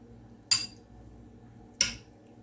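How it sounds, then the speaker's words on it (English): Two light metallic clinks of a spoon against a pot while scooping chicken Alfredo, spaced about a second apart over a low background hum. "I'm going to scoop some out."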